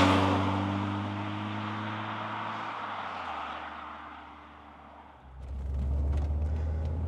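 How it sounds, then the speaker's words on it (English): A Saab 9000 Turbo engine hums with a low, even tone that slowly fades, then a deeper rumble swells as the car pulls away. No voices are heard. "let's start it up and go for a drive."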